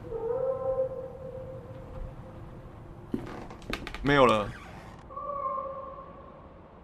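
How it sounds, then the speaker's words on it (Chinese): In the horror game The Last Door, a cat meows a short wavering cry partway through, set among eerie sustained tonal drones, with a voice speaking briefly. "刚那是猫叫声啊"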